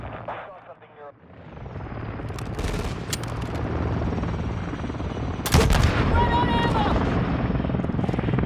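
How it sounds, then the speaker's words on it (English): A helicopter flying overhead in a first-person shooter video game, a loud continuous rotor roar that swells midway, with bursts of gunfire and game voice callouts mixed in. "Oh, that's a chopper."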